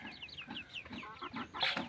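Young chickens on a farm cluck and peep in quick repeated chirps, soft and fairly close, with a louder cheep near the end.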